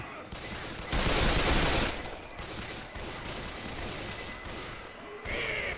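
Heavy automatic gunfire in Left 4 Dead 2 rattles on continuously, surging into a louder volley early on, then settling into a dense, steady clatter with a final burst.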